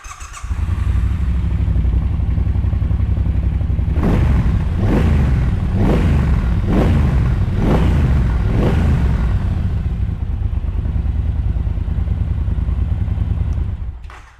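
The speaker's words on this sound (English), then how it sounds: "These Triumph Bonneville 1200 engines sound absolutely fantastic. Let's fire this one up and have a listen." Triumph Bonneville 1200 motorcycle engine idling with a deep rumble, then five quick throttle blips revving up and dropping back before settling to idle again.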